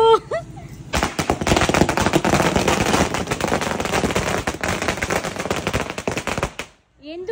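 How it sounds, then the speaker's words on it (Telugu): Firecrackers burst for a Vijayadashami (Dasara) celebration in a hometown: a dense, loud, rapid string of crackling bangs runs for about six seconds, then stops abruptly, with voices briefly at the start and end. "అందుకే ఆ సక్సెస్ ని సెలబ్రేట్ చేసుకొని బాంబులు పేల్చుకుంటున్నాం"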